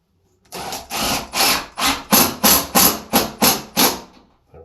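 A drill drives a screw into an aluminum mirror medicine cabinet from Kohler in short, evenly spaced bursts. About ten close, sharp pulses are heard alone, with no talk.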